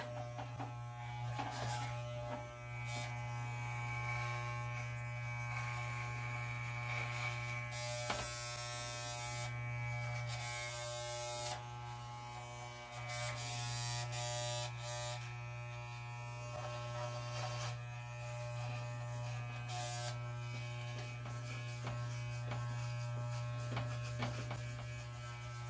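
A Wahl hair clipper drones with a steady electric buzz through a self haircut, close and continuous with small shifts as it moves over the head, with no talking.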